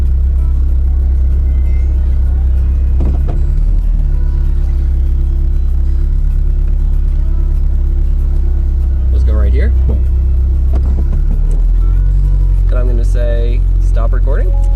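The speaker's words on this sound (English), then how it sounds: "So I'm going to turn the car on." A car engine idles with a steady low rumble that stays loud throughout, with a few brief revs and higher whines breaking through near the end.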